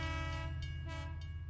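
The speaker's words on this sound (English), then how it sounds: "The train was coming closer. I could hear the cry of its whistle." A train horn sounds steadily with low, rich sustained tones, a drawn-out wail approaching from a distance in a radio-drama style scene, heard alone without talk.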